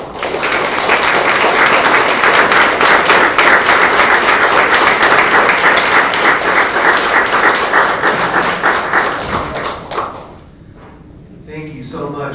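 Loud, sustained audience applause at a symposium panel, dense clapping holding steady for about ten seconds before fading into scattered claps and a voice beginning to speak.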